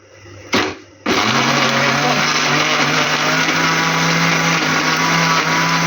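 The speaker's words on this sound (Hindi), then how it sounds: "और साथ में इसमें हम डालेंगे अपने यूँ एक मीडियम साइज़ का टमाटर काट के, और इसको हम ब्लेंड कर लेंगे।" A kitchen blender whirring loudly and steadily as it purees tomato for kofta curry, starting after a brief clunk and settling into a constant close motor drone.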